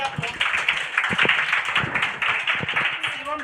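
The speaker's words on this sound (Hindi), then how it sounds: "एक बार ताली मार दीजिए आप लोग" Students applaud at a Class 12 school farewell ceremony, a steady crowd clapping that runs through the whole stretch, with scattered voices underneath.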